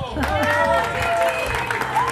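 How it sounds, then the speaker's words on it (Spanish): A television studio audience applauds and cheers during an evening talk show, a thick, continuous crowd clapping with voices mixed in beneath it, fairly loud and sustained. "Gracias por los aplausos, muchas gracias."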